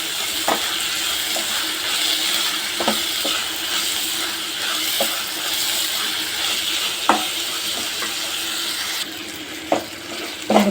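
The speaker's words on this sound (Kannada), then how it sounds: "ಸ್ವಲ್ಪ ಪುದೀನ, ಸ್ವಲ್ಪ ಕೊತ್ತಂಬರಿ ಅದ್ರ ಜೊತೆಗೆ ಹಾಕಿ ಫ್ರೈ ಮಾಡ್ಕೊಂಡು" Mint and coriander leaves frying in a pan for egg sambar, a constant close sizzle with several sharp scrape-and-stir knocks spaced a few seconds apart, no voices.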